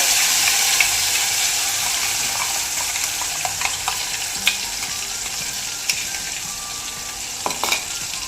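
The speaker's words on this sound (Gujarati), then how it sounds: "પેલા પેસ્ટ ડાયરેક્ટ વઘાર કરવાનો છે." Spice paste with cumin goes straight into hot tempering oil and sizzles in a strong, steady hiss up close, with a few light utensil clicks and scrapes as it is stirred, no speech.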